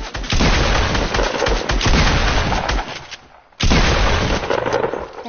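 Rapid bursts of automatic gunfire from a Fortnite match, loud and dense, pouring out almost continuously, breaking off briefly, then resuming just as heavily.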